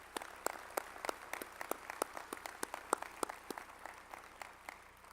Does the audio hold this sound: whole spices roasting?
no